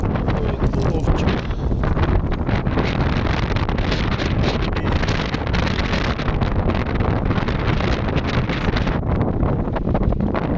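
Strong wind on a lake during a fishing trip buffets the microphone in a constant loud roar and rumble, with faint rustling and water noise beneath it.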